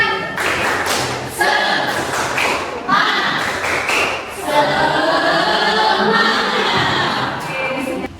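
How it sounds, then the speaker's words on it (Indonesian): A school biology class claps in a rhythmic pattern, with bursts of sharp hand claps and stomps in quick sequence, accompanied by chanting voices. "Tepuk semangat."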